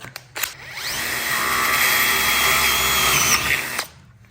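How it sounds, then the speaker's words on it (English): A power drill with a 9mm bit bores through a homemade Tormek sharpening jig. It gives a loud, close, steady whine for about three and a half seconds, with a brief rev-up before and a quick spin-down after. "Got a 9mm drill bit."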